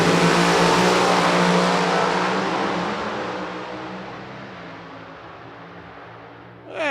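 A drag race car engine revs loud and steady while being brought up to staging, its dense roar slowly easing off before a brief sharp burst at the very end.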